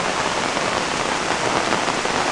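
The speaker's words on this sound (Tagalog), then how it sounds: "Umuulan po." Heavy rain pours down at a site, a loud, continuous hiss of water striking surfaces with no break, with no voices.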